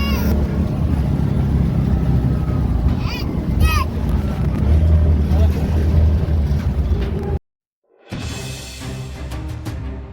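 An auto rickshaw ride heard from inside, with a steady droning engine and strong wind rush through the whole stretch, a short dropout near the end, and faint voices mixed into the noise.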